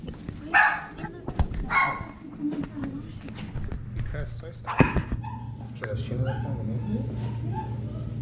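A dog barks in several sharp bursts indoors at close range, mixed with yips and whimpers, while people talk over and between the barks.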